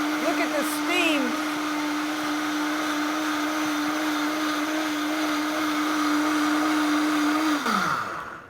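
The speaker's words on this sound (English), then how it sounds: "I'm going to blend this in batches" A blender blending hot pumpkin apple coconut soup runs at a steady high-pitched whir for several seconds, then winds down and stops.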